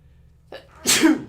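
A single sharp sneeze, close and loud, preceded by a short inhaled breath.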